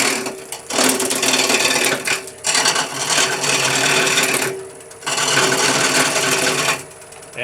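A wood lathe spins at around 600 RPM while a carbide tool cuts the work in bursts of rasping, chattering noise, broken by brief pauses.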